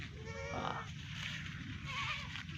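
Goats on a small farm bleat in a wavering, nasal call near the start, with a second call around the two-second mark, set against steady low outdoor rumble.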